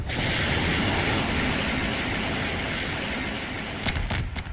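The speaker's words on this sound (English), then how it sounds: "those explosions are a lot better" Loud, continuous rumbling explosions in a Garry's Mod NPC battle roar through the whole clip, dense and heavy, with a few sharper cracking bursts near the end.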